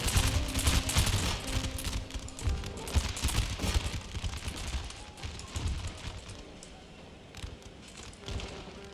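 Musket volleys rattle across a battlefield in Empire: Total War, dense overlapping crackling shots in rolling bursts, loudest early and thinning toward the end, with scattered distant pops.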